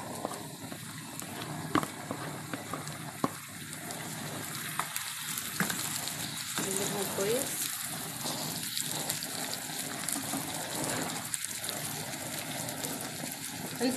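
Chopped tomatoes hitting a pan of frying garlic for a baked fava bean and egg dish, giving a steady, fairly quiet sizzle and crackle that runs throughout, with occasional stirring sounds and no speech.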